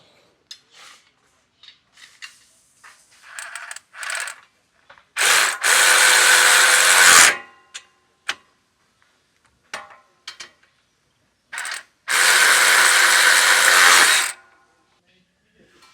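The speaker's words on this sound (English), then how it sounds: "I'll go ahead and tighten it up using our 13mm socket" A tool runs in two sustained bursts of about two seconds each, driving M8 bolts into weld nuts with a 13mm socket on a Kawasaki Ridge winch mount plate. Faint clicks and handling noises fill the gaps between the bursts.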